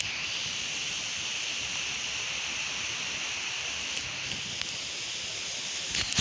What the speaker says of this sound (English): The wind do be picking back up.